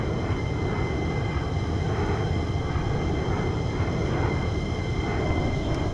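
An F-15 jet's engines drone steadily in flight on approach to Minden airport, a dense, constant roar with a faint high whine and no distinct clunks, no voices.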